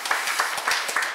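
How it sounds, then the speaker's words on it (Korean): A crowd claps for a district mayor at a neighborhood residents' gathering, a brief burst of moderately loud, rhythmic applause from a small audience, with no voices over it. "구청장님, 예, 박수 한번 쳐주세요"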